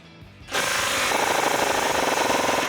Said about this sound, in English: Grab a 14 millimeter socket, and you may want an extension here,